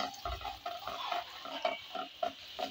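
Spoon or spatula scraping through chappan kaddu (round gourd) masala with added spices in a pan, giving a steady series of soft rhythmic stirring strokes with faint frying sizzle, close by and without speech.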